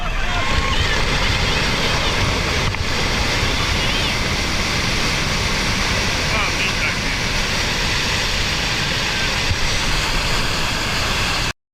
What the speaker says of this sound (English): The video shows a landslide mixed with water rushing down forcefully from top to bottom.